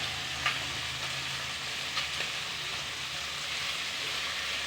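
Giant prawn claws frying in the ghee released from the cut prawn heads, a steady close crackling sizzle filling the whole stretch with a couple of small pops and spatula stirs.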